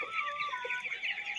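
Eighteen-day-old broiler chickens clucking in a poultry shed, a close, continuous overlapping chorus of short clucks and murmurs with no voices.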